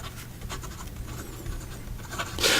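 A Wahl Eversharp Decoband fountain pen with a gold flex nib scratching across paper in short strokes, soft and close, with a brief louder rustle near the end.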